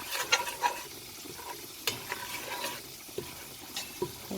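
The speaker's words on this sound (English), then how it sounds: "you have to go ahead and cook that curry" Curry sizzling in a pan while a spoon stirs it, soft steady frying hiss broken by occasional scrapes and clinks against the pan, fairly quiet and close.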